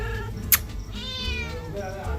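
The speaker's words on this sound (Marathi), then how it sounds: "ही बघा कॅट आमच्या ब्लॉगमध्ये नेहमी येणार" A house cat lets out a single drawn-out meow indoors amid birthday decoration preparations, rising clearly over a steady background hum, with a sharp click just before it.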